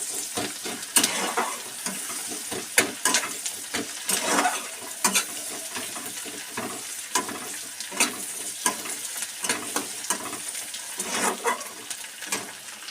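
Onion and tomato fry in a pan, giving a continuous crackling sizzle with frequent scraping stirs, moderately loud and close with no voices.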